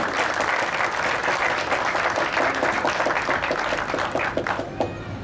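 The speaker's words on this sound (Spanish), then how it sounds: "nuestro querido poeta Santiago Aguilar, para quien pedimos un fuerte y caluroso aplauso." Warm, sustained applause from an audience at the Trujillo book fair for a poet presenting a poetry book, steady dense clapping filling the room throughout with no talking over it.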